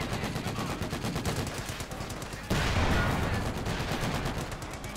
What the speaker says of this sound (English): Failed Panzer IV shot there.